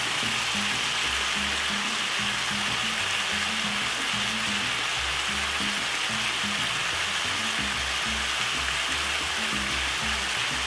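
Steady, loud sizzling as carrots and mixed peppers hit browned steak frying in a pan for Caribbean Jamaican-style pepper steak, a continuous hiss with a faint low bubbling beneath.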